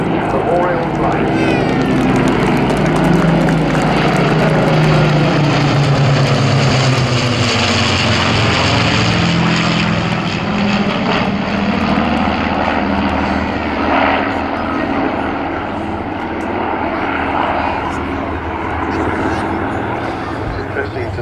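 Piston-engined aircraft of the RAF Battle of Britain Memorial Flight pass over at an airshow. The loud, continuous propeller drone swells and shifts in pitch as they fly by, under crowd noise and commentary.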